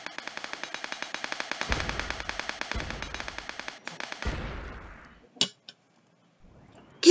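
Rapid game gunfire from a weapon in the Wings.io aerial shooter, a steady stream of quick evenly spaced shots with a few heavier bursts, ending in a couple of isolated pops and near silence.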